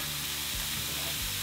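Onions and jalapeno peppers browning in a pan for keto empanada filling, a constant bright sizzle and hiss with a few soft low thumps of stirring, close and alone with no talk.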